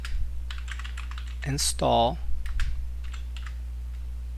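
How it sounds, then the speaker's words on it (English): Someone types a pip install command on a computer keyboard: a quick run of close, crisp key clicks, briefly interrupted by a spoken word and then continuing at a lighter pace. "once you start typing the first part of it, you could just hit tab"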